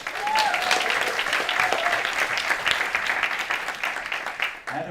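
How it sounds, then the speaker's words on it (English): Audience clapping for a newly named program head at a student network national assembly in Frankfurt, a sustained even round of applause with a faint whistle-like tone early on, dropping off abruptly at the very end. "please also big applause for Katrin"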